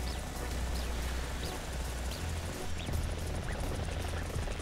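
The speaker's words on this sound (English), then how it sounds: "These helicopters are, I think, my favorite." A helicopter in the War Thunder video game gives a steady, dense rotor drone throughout, with a faint recurring higher sweep and no talking.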